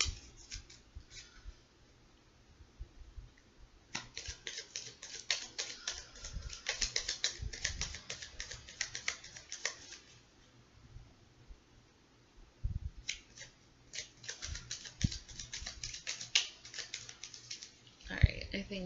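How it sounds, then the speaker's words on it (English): Bursts of rapid tarot card shuffling, crisp riffling clatter in two main runs with quieter handling and a soft voice between. "I think 3 more shuffles should do the trick."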